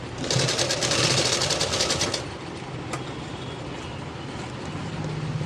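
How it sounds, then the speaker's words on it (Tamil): A sewing machine runs fast and close as it stitches the neckline edge of a lined blouse. The steady whirring lasts about two seconds, then it stops and a quieter background hum remains. "கழுத்தின் ஓரத்தில் தையல் போடுறோம்"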